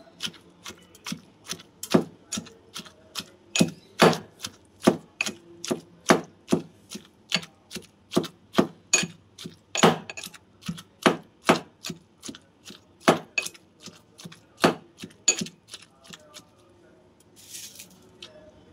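Beerakaya chutney being pounded in a stone mortar: a steady run of sharp, close thuds, roughly one or two per second, fading toward the end.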